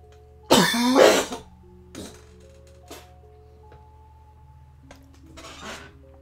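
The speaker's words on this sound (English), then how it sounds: "I was coughing quite intensely." A person coughs hard in a loud burst near the start, followed by a few fainter coughs and throat sounds spread through the rest, heard close up over a quiet steady hum from a Fable II game session.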